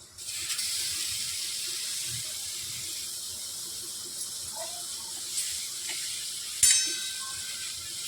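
Pineapple pieces sizzle in melting sugar over a gas flame, a steady soft hiss running throughout with a few brief clinks and a sharper spike near the end.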